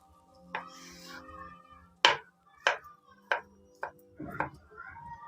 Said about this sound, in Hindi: पहले अपने आलू की कटिंग कर लेते हैं।